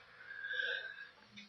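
A single short sneeze from a person on a talk show about films, rising and fading within about a second, close and moderately loud with a faint breathy tail.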